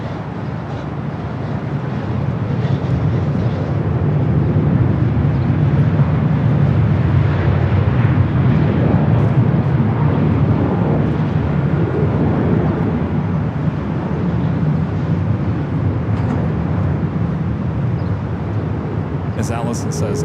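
Jet airliners, a KLM jet and a Dreamliner, take off at LAX on runway 24 Left, a broad low rumbling roar that builds and holds for many seconds, with wind buffeting the microphone.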